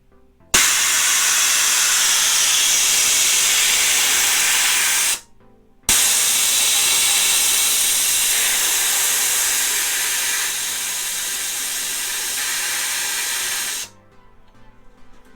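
Loud, steady hiss of compressed air rushing out of a DeWalt 20V cordless compressor's tank, running for about five seconds, a brief pause, then a long continuous blast that tapers slightly before stopping.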